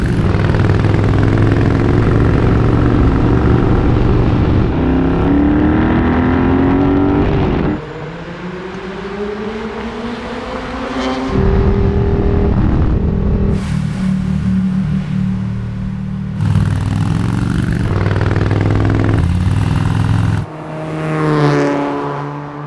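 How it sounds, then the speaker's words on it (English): A 1974 Ducati 750SS V-twin motorcycle with about 100,000 miles runs loud and close. Its engine note rises and falls through several revs and shifts, with a dense low rumble and mechanical valve clatter. "So it's a visceral emotion when you hear the engine run"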